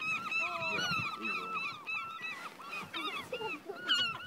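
Geese honk close by in Alaska, a busy overlapping chorus of repeated nasal calls that carries on throughout with slight fluctuations in loudness.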